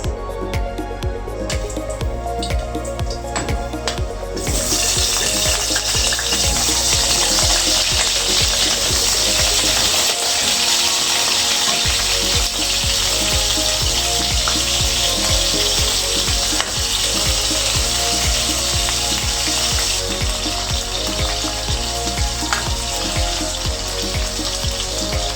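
Potatoes fry in cooking oil in a pan: a loud, steady sizzle swells in after a few seconds and runs continuously, with a rhythmic clicking, ratchet-like pattern beneath it and no talking.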